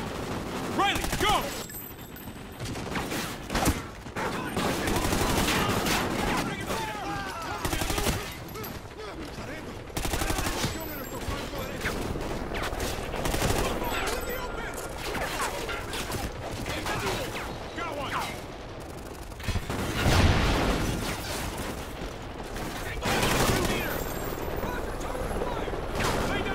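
Call of Duty: Ghosts gameplay fills with dense gunfire, rapid automatic bursts and loud single shots over a constant battle din, while voices shout commands throughout.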